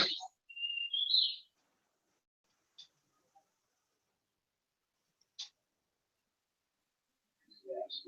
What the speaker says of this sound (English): those are actual real birds